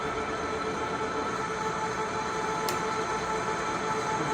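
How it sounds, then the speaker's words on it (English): A Leblond Regal 15x54 engine lathe runs forward threading at 351 RPM, a steady dense mechanical rumble and whir with a faint tonal hum and one brief high tick, with no talk. "forward threading going on"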